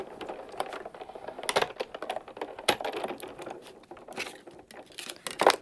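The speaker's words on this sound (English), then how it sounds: "we're ready to run that through the machine and cut that out" Die-cutting machine cranking a stamped paper image through its rollers, giving a close run of crinkling, clicking and tapping bursts with no voices.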